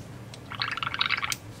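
Water pours and splashes into an airbrush cup during cleaning in an airbrush booth. A soft gurgling fill lasts under a second, fairly quiet, with no talk.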